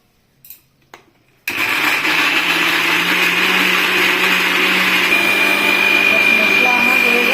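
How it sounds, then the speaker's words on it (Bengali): After a couple of soft clicks, a mixer grinder roars to life, grinding fried tomato and onion masala into a paste for egg curry, then runs loud and steady with a constant whine. "এই মশলাটাকে এখন আমি মিক্সিতে পেস্ট করব"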